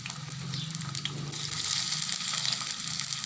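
Chopped onions frying in hot oil in a kadai while filling for aloo puri is being made, a steady close crackling sizzle that holds at an even level throughout with no talking.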